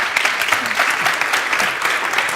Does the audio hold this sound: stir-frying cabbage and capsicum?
no